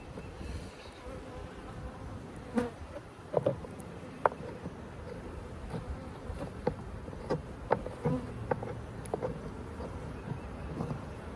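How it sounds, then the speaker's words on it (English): Many honeybees buzz in a steady, close drone inside a Layens hive box during an inspection, with occasional soft knocks and clicks rising above the hum. "there's a lot of bees down in this box"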